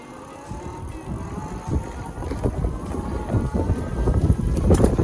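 Heybike Horizon folding full-suspension e-bike ridden at full throttle on a trail, a steady rumble of tires and wind buffeting the microphone that grows louder and rougher with bumps toward the end, no talking.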